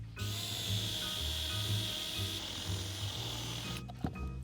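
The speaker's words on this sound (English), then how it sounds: "I'm gonna carve a hole all the way through so that the lava lamp sits inside of this" A power tool carves a hole straight through a wooden lava lamp base, giving a loud, steady whirring grind that holds for nearly four seconds and then cuts off abruptly.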